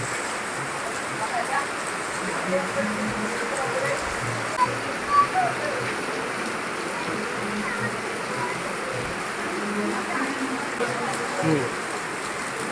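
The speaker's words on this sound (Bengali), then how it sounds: "প্রচন্ড জোরে বৃষ্টি পড়ছে" Heavy rain pours down on a Maha Ashtami morning, a dense, constant hiss of drops drumming on surfaces throughout, with faint voices now and then beneath the downpour.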